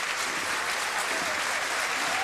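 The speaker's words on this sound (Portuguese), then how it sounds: "oferece-lhe este banho de multidão, este banho de palmas" A football stadium crowd at a Belenenses versus Braga match in the 2006/07 season gives a substituted player a dense, loud, continuous round of applause.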